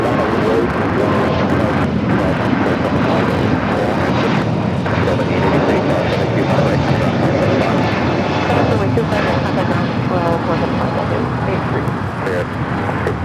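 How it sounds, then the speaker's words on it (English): A United Airbus A321neo jet airliner roars loudly and steadily at LAX airport, a dense continuous engine rumble with no break that fills the whole stretch, with no talk over it. "United A321 Neo heading to Chicago O'Hare, flight 212."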